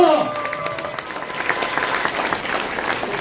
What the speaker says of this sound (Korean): 여러분 모두 큰 박수 한 번 다시 부탁드리겠습니다.